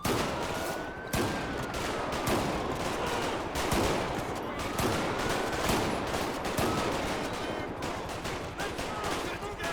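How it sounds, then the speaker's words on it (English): A less-lethal shotgun fires in a GTA V LSPDFR sheriff shootout in Sandy Shores, with sharp, booming blasts over continuous loud gunfire and game noise, and voices underneath. "I accidentally grabbed the less lethal shotgun."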